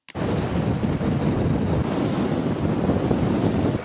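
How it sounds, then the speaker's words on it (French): Strong wind buffets the microphone on a beach in Fuerteventura in loud, continuous roaring gusts, with a surf-like rush underneath and no voices. "Vous allez voir, il y a un vent de fou."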